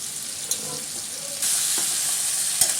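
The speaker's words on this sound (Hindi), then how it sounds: "अब ये सारा का सारा कद्दू की स्लाइस जो है मैं इसमें डाल देती हूँ" Pumpkin slices fry with ajwain in a pan, giving a steady close sizzle throughout while a utensil stirs them with a few scraping knocks, and the hiss grows louder partway through.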